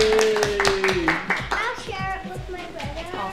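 A small crowd claps in a round of applause at a handmade sweet shop in Belfast, with brisk scattered claps under overlapping voices, including children's.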